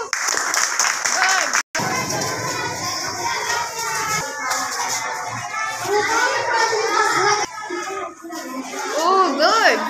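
Children in a classroom clap and chatter together, a lively mix of scattered applause and excited young voices, with brief pauses and rising bursts of noise.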